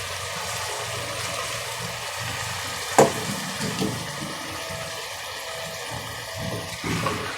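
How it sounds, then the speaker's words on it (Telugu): Fenugreek leaves with turmeric fry in oil in a pan, producing a soft, low, bubbly sizzle with a sharp utensil tap partway through and a few gentle stirring swells. "మెంతి కొంచెం మంచిగా నూనెలో వేగిన తర్వాత అప్పుడు టమాటా వేసుకోవాలి"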